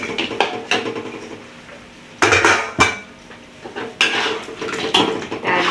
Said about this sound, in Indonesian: Nah, kita masukin ikannya yang sudah kita goreng tadi ya Bun.